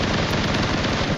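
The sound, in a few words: gunfire in a shooting video game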